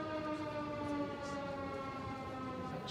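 A memorial siren wails steadily through a tribute gathering held for a teacher killed in the Arras attack, a sustained unwavering tone droning on throughout with no voices.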